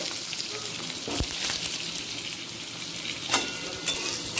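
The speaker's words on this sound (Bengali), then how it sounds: "প্রথমে আলুটাকে আমি ভেজে নেব" Potatoes fry in hot oil for a mixed-vegetable mustard curry, giving a continuous bright sizzle up close, broken by a few stirring knocks and scrapes, no voices.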